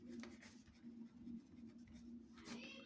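A pen scratches across paper in short repeated strokes while a math problem is worked out, close and soft over a faint background hum, with no talking.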